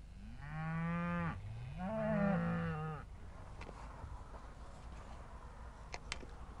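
Beef suckler cows and calves on a farm: two long, loud, drawn-out moos in close succession, then quieter outdoor background with a few faint clicks.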